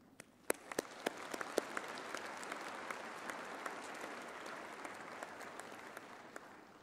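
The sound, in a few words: audience applauding graduates at ceremony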